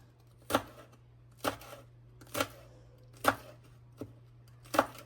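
A knife chops breakfast ingredients on a board in six evenly spaced, crisp thuds about a second apart, close and fairly quiet, with no speech.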